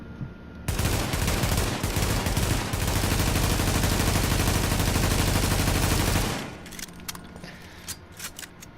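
A G36 carbine rifle in The Division fires a long, unbroken full-auto stream of rapid shots, loud and close, lasting about six seconds before cutting off to faint clicks and clatter.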